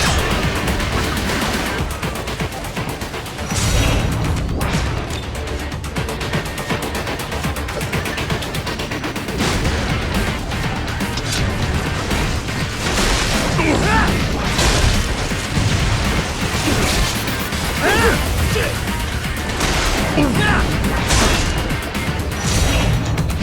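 Grenade blasts and chaotic combat noise from the video game Metal Gear Rising: Revengeance, dense loud bursts and booms continuing throughout with crashes layered over a constant action din.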